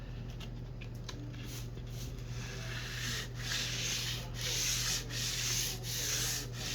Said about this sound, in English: I'm going to use a wet sanding technique, a damp rag, and a wet sandpaper.